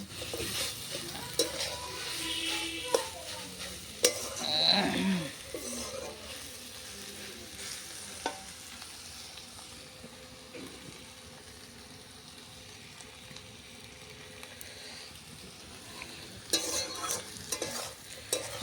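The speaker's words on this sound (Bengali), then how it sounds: "একটু লাল লাল হবে নাড়াচাড়া করে তারপর নেওয়া হবে" Leafy greens being stirred and fried in a pan over a wood fire, a soft ongoing sizzle with intermittent scraping and clinks of the utensil, fairly quiet and without talk.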